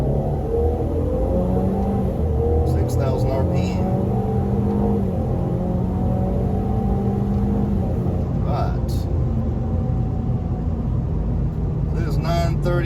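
A Ford EcoBoost car with a Stage 1 tune accelerates hard from a launch in second gear, its engine droning and rising under steady road rumble throughout, with a person talking over it.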